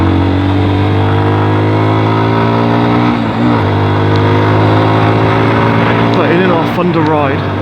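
A Lexmoto Isca 125 motorcycle engine drones steadily while riding, its mid-pitched hum close and loud, holding a fairly even pitch with slight shifts as the bike moves along.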